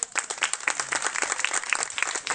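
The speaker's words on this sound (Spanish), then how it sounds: "Un aplauso a Víctor." Short burst of audience applause at an interview event, fairly close and moderately loud, with irregular individual claps standing out from the crowd.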